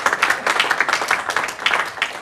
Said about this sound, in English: Please give a round of applause for all those who were acknowledged tonight